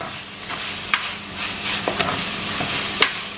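Mutton roll filling sautés in a pan with a steady close sizzle, broken by occasional sharp scrapes and taps of a stirring spoon.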